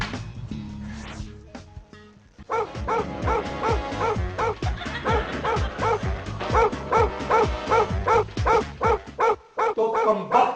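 A dog barks loudly and insistently in a rapid, repeated series with yips and whimpers mixed in, set in a comedy drama scene and heard close with little pause.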